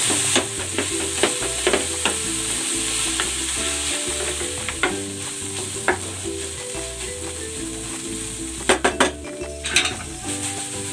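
Tomatoes added to pork in a frying pan, sizzling steadily up close, with a spatula scraping and stirring and occasional metallic clinks against the pan.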